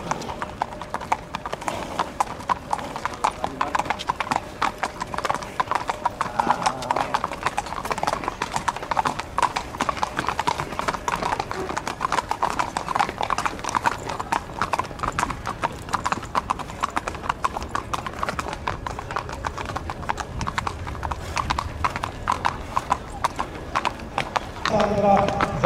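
Racehorses galloping in a six-horse 1400 m race, a steady dense patter of hoofbeats throughout with a race commentator talking continuously over it.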